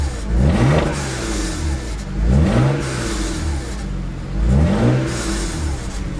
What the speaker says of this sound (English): how bad the wastegate rattle is.